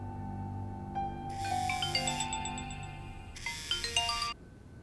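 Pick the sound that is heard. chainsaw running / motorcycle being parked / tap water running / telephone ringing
telephone ringing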